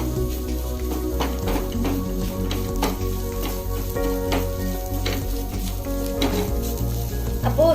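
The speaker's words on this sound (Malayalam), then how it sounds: "സ്ക്രാമ്പിൾഡ് എഗ് ആണ് ചെയ്യുന്നത്" Eggs frying in a pan for scrambled egg stuffing for homemade chicken bun rolls, a loud, close sizzle with repeated scraping and tapping strokes of a utensil as the eggs are stirred.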